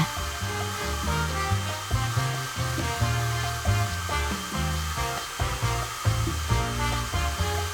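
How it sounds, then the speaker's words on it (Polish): Hair dryer blowing steadily over freshly poured epoxy resin to spread it into sea-like waves, a continuous whooshing airflow that stays loud throughout with slight fluctuations. "trzymajcie suszarkę nad tabliczką i pod kątem."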